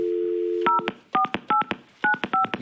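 A telephone call to Finland is placed: a steady dial tone gives way to a quick run of sharp, clipped keypad tones in short bursts, loud and close, with no voices.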